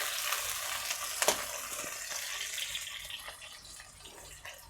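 Chopped onions fry in plenty of hot oil in a pan for a cabbage curry, giving off a close, steady sizzling hiss that fades slightly toward the end, with no talking.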